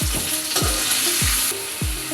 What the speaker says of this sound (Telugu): మూత తీసి మెల్లిగా తిప్పుకోవాలి